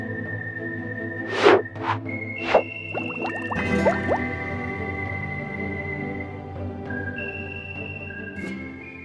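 Liquid poured all at once over a pie dough mixture in a kitchen, giving wet squishing and dripping sounds with a few sharp splashy blips near the start, then a softer trickle and faint bubbling settling under a steady background hum.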